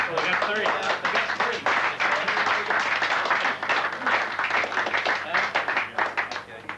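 Clapping breaks out in Mission Control, Houston, after a satellite is secured on a pallet during a spacecraft retrieval, with dense repeated claps under overlapping voices.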